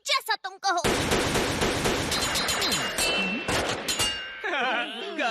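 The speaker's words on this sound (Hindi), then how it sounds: "तुमने जो गोलियां चलाई वो तो असली हैं" Rapid bursts of gunfire from a villain gang's guns in a Dragon Ball Z film fight scene, loud, dense, overlapping shots layered with thuds, impacts and music.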